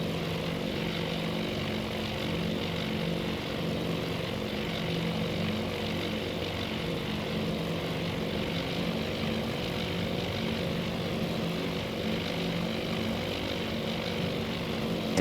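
WWII bomber propeller engines drone steadily in the Task Force Admiral video game, a continuous low rumbling hum holding even loudness throughout with no talk over it.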